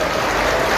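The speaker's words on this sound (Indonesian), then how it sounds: "ya tepuk tangan yang di belakang" Applause from the audience at the back of a school gathering welcoming new students for 1 Muharram: a dense, steady wash of many hands clapping at once, filling the room briefly.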